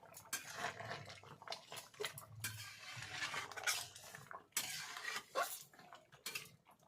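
A metal pot lid lifts off a boiling pot of crab, spinach, potato and taro. Several light clanks and scrapes of metal on cookware come in scattered bursts, close and fairly quiet, with no talk.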